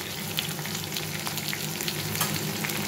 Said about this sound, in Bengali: মশলাটা দিয়ে এই সবজিগুলো একটু ভেজে নেব।